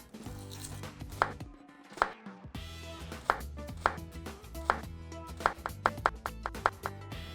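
Knife chopping onion on a cutting board, a series of sharp, close knocks at an uneven, fairly steady pace with brief pauses, no voices.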